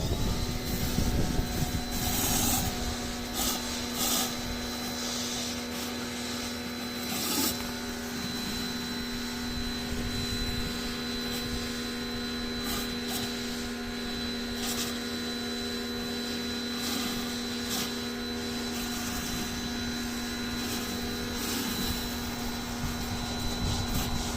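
An Aldi Ferrex 2.4 kW pressure washer spraying at maximum power, a steady loud motor drone with constant hissing water spray and a persistent whine throughout.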